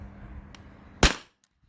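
A Beeman air pistol fires a single sharp shot through a chronograph indoors, one loud crack standing out above a low background hum, then quick silence.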